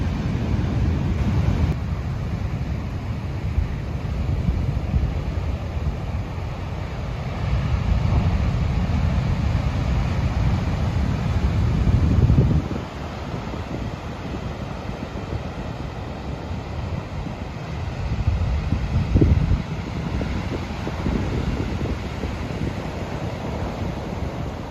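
Big ocean waves crash and surge on Iceland's black sand beach under steady gusting wind, a loud continuous roar with heavier breaking swells rising and falling, no voices.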